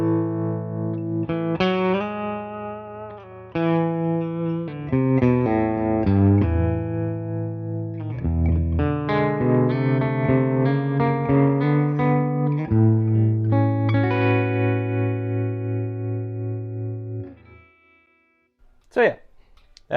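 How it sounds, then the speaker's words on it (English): Clean electric guitar through a Tone King Imperial amp with the tremolo set faster and shallower, played as close chords and single notes with a quick subtle wobble, ending in a short scrape and near silence. "So yeah, that's the tremolo."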